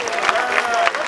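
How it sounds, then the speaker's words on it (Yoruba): Crowd applause at a 50th birthday celebration for a Nigerian musician, a brief burst of dense clapping heard up close with a voice mixed in. "ó yá pàtẹ́wọ́ fún Alhaji"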